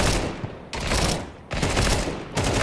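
Bursts of video game gunfire during a competitive match, dense crackling volleys in two or three loud waves separated by brief dips, with no talk over them.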